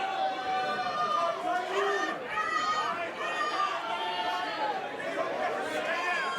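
Wrestling crowd at a Sabotage Wrestling match, a steady wash of chatter and shouts from many fans, with a commentator's voice running over the noise throughout.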